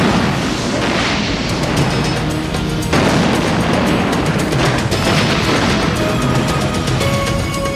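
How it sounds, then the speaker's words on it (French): A loud explosion in a 1995 TV drama series, a heavy booming blast with crashing debris and rumbling that continues in waves, mixed with dramatic background sound. "Cette explosion vient de mettre un terme à l'antidote Fodex."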